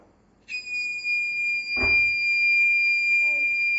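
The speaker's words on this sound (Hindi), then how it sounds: "तो देखो, अभी इस टाइम पे ये बजर बजने लगा." A gas leakage detector's buzzer alarm sounds with a steady, piercing high-pitched electronic tone that starts abruptly and holds continuously, with a brief knock and some faint background noise underneath.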